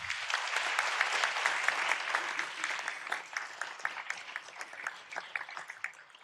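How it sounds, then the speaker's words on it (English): Applause from an audience at a Fort Worth city council meeting, a dense burst of many hands clapping that starts loud and steady, then thins into scattered claps as it fades out. "Please give them a round of applause as well"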